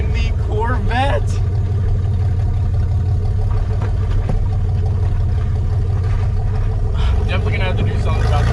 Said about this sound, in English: Oh yes, we are out and about in the Corvette.